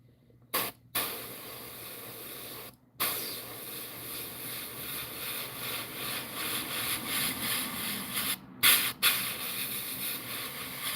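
An airbrush hisses steadily while spraying paint over a striped bass fishing lure, a close continuous airy spray broken by a few brief cutoffs.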